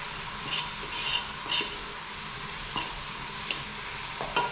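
Gumbo seasoned with cayenne is stirred in a pot, with a soft continuous simmer broken by several light scraping and clinking strokes of the spoon against the pot, close by and without talk.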